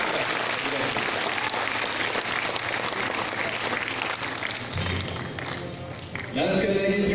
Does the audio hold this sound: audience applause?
yes